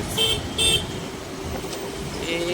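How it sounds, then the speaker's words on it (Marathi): Car horns toot in short bursts amid a traffic jam near a station, two or three brief honks over a steady low road rumble. "दोन्ही साईडला ट्रॅफिक जाम आहे, लेफ्ट आणि राईट साईडला दोन्ही साईडला ट्रॅफिक जाम आहे"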